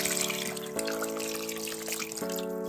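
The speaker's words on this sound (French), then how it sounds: "on va mettre l'eau tout doucement" Water trickles in slowly and steadily from a tap while a tomato paste sauce is made for stuffed zucchini, a continuous faint stream with a low tonal hum beneath it and no talking.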